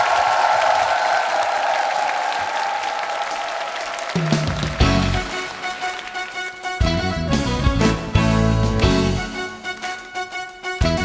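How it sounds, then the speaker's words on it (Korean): Studio audience of a Korean singing show applauding for about four seconds before music with drums and melody takes over, the clapping mixing into the start of the song. "박수로 청해 듣겠습니다"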